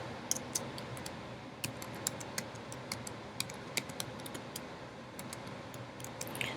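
Keys tapped on a computer keyboard in bursts of light, close clicks, uneven in rhythm, over a quiet room with no talk.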